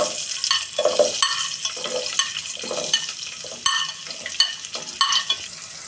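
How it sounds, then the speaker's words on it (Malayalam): Chopped onion goes into a hot pan for soya chilli fry, giving a steady close sizzle with repeated stirring scrapes in an even rhythm throughout, no voices. "അതേ പാനിലേക്ക് ഇനി നമുക്ക് അരിഞ്ഞു വെച്ച സവാള അരി ഇട്ട് കൊടുക്കാം"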